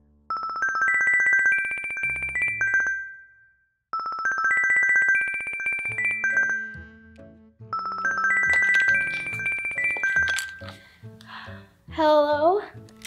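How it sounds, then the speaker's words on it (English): A synthesized toy princess phone ringtone plays a bright electronic melody in repeated bursts, with a jumble of playful tones near the end. "10 minutes quickly passed before her princess phone rang"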